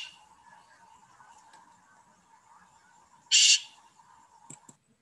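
A recorded water rail call sounds as one loud, harsh, squealing burst near the middle, followed by a couple of short faint chips over a low, steady background.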